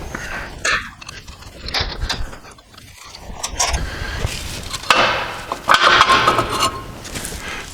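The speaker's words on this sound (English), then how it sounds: "Off with the two locating screws for the disc." Locating screws being backed out of a car's rear brake disc during a wheel bearing job, giving close, irregular metallic ratcheting and scraping clicks that grow louder toward the end.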